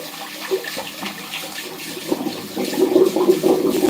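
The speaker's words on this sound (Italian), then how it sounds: "fammi fare il cambio d'acqua qua che è pieno di capelli e capellacci" Water splashes and runs in a barber's basin full of hair as it is changed during a live Neapolitan shaving session, trickling softly at first and then swelling into louder, steady pouring.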